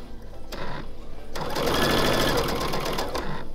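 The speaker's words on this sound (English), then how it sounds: "So I'll just head to the machine and start sewing now." A sewing machine stitches binding onto a small quilt with a quarter-inch seam, whirring steadily and close after a brief stop-start, with faint background voice.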